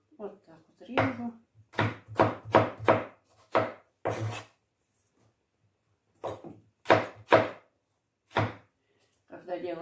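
A knife chops through food on a cutting board in a home kitchen, sharp rhythmic knocks in quick runs of several strokes separated by pauses, close and crisp with no talk over them.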